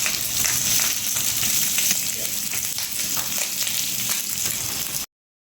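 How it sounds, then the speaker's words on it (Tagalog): Pork for sisig grilling over charcoal, a steady loud sizzle and crackle of fat with fine popping spatter throughout, continuous and close, then cutting off abruptly. "Slice 1-inch thick and grill until golden brown."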